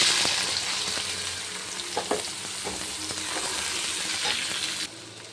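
Gobindobhog rice fries in white oil and a little ghee for basanti pulao, a loud, even sizzle with faint crackles and light stirring that drops off sharply near the end.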